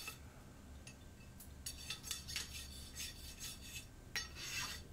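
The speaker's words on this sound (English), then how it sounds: "Just get the worst of the, or the rest of the coating off with the rasp. Give it a quick rub." A rasp files the last of the coating off a length of welding rod wire in a series of quick, close scraping strokes, with a few metallic clinks between them.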